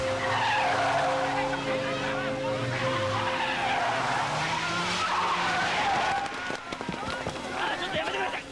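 A car's tires skid and squeal loudly as it swings around, engine roaring beneath a long continuous screech, then a rougher scraping finish.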